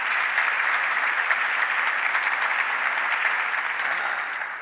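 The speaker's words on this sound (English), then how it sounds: "Let's give our state delegation a round of applause as well." Steady applause from an audience at a government downtown revitalization announcement in Rochester, a dense wash of clapping lasting several seconds before tapering slightly.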